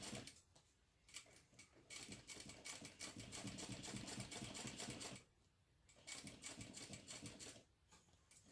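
A sewing machine runs in two long bursts of top stitching through vinyl with a 1/8 inch seam allowance, a dense rapid needle clatter with a brief pause between runs and no talking.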